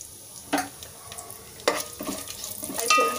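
Whole garam masala spices fry in hot oil and ghee for coconut milk biryani, a close, crackling sizzle with sharp bursts as they are stirred around the pan.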